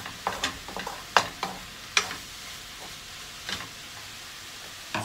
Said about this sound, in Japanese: ニンニク炒めていきます。